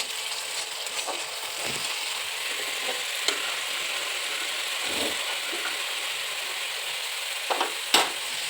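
A ginger and cumin spice paste sautés in a pan over medium heat, giving a steady hissing sizzle with light stirring scrapes and a few clinks near the end.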